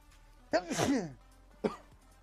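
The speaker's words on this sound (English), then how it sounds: "I sneezed." A single sharp sneeze bursts out loud and close, trailed by a brief second exhalation or sniff a moment later, with near silence around it.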